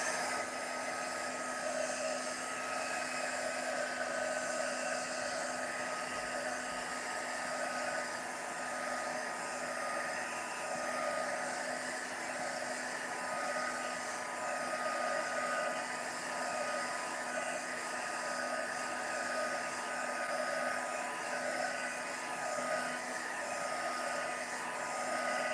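A hair dryer runs continuously, drying craft embellishments, giving a steady loud whooshing blow with a constant motor hum and no change in level for the whole stretch; no talking.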